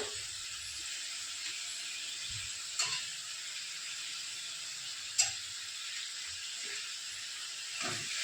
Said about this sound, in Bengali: মশলাটাকে কিছুক্ষণ কষিয়ে নিচ্ছি।